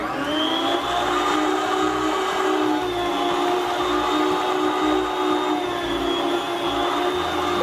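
A meat slicing machine cuts turkey breast with a loud, steady whirring drone that holds unbroken throughout, with no talking.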